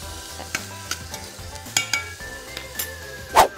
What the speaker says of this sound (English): Saute this. Turn this up on high. Let that saute for a little bit.